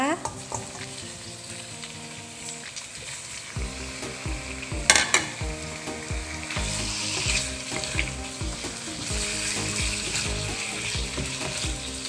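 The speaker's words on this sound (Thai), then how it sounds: "ค่ะเราจะผัดคลุกเคล้าให้เข้ากันดีนะคะ แล้วก็ ผัดจนหมูเราสุกนะคะ" Pork ribs stir-frying with garlic, coriander root and pepper paste in a hot pan, a steady loud sizzle with scraping stirs and clatter throughout, one sharp metallic knock near the middle.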